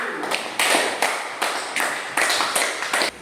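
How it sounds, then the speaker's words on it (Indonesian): Sparse clapping from a small classroom audience for a presenting group, a handful of separate, fairly close claps in uneven bursts. "Kita beri tepuk tangan untuk kelompok 1."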